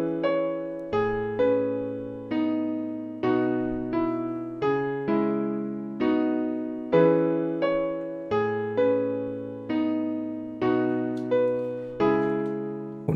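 A modified MIDI piano melody from Ocean's pack loops through evenly paced chords and notes, each attack decaying before the next in a steady, repeating rhythm, clear and solo with no voices.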